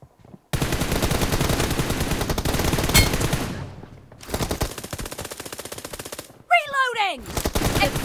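Heavy gunfire in a team deathmatch shooter game, long loud automatic bursts with a short break, then more firing plus a whooshing effect, voices faintly underneath.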